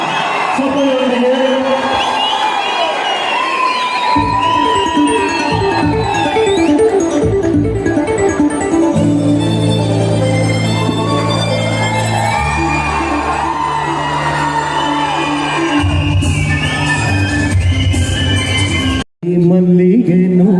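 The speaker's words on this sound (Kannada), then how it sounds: "ಚಪ್ಪಾಳೆಯೊಂದಿಗೆ" A college festival audience at MES Degree College, Bengaluru, cheers and whoops loudly over stage music as a guest is welcomed, the crowd noise staying dense and continuous until a sudden brief cut near the end.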